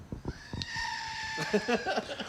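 A goat screams in a few shrill, strained, bleating cries, with short sharp noises around them; a voice can be heard faintly beneath.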